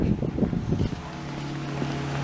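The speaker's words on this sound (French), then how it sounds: "Ça se peut que t'entendes beaucoup de vent." Wind buffets a microphone outdoors during a walk, a steady low rumble that persists throughout, with a brief stretch of rustling movement at the start.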